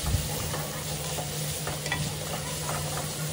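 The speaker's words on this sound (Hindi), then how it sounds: "इसको अच्छे से फ्राई करेंगे जब तक ये अच्छे से गोल्डन ब्राउन ना हो जाए।" Onion and garlic paste frying and sizzling in a pan while being stirred, a steady close hiss with soft scraping and no talking.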